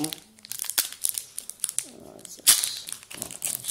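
Crinkling and tearing of a Champions League 2013/14 trading card sachet as it is ripped open, with sharp plastic rustles, a loud tear midway and scattered crackles, a voice speaking between them.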